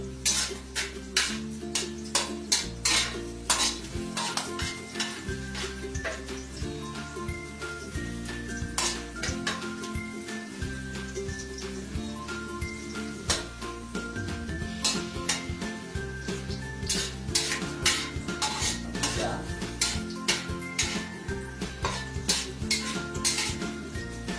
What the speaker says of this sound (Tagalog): Ngayon po, ginigisa ko po ang luya